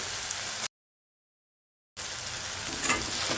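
Onions sauté in a pan with ground chillies, ginger and garlic for a green brinjal olo, giving a steady close sizzle that cuts to complete silence for over a second before resuming.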